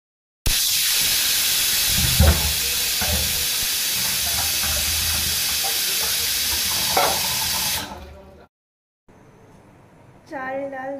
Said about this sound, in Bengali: প্রেসারে এখন সিটি মারছে এখন